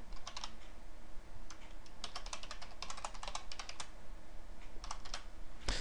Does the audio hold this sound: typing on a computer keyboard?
yes